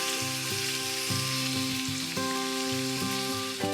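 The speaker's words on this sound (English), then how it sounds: "going to pop my pancetta onto an oiled saucepan. Ooh, doesn't that sound wonderful?" Pancetta medallions sizzle in an oiled saucepan, a continuous close crackle and hiss under steady background music, with no talking.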